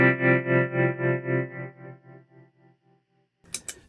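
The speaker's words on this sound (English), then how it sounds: "So you get a very dramatic tremolo effect." Guitar run through a Keeley Verb O' Trem tremolo and reverb pedal set to heavy depth, a sustained note pulsing in a strong, regular rhythm that slowly fades, then a brief burst of new playing at the end.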